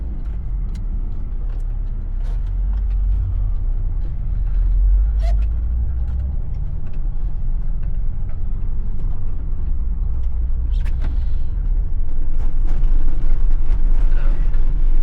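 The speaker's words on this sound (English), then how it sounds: "We're just gonna drive right out of here." A van pulls out of a frozen, snowy campsite at Rainbow Lake in Alaska in winter, its engine a steady low rumble throughout with intermittent light rattles and knocks, close and continuous with no talk.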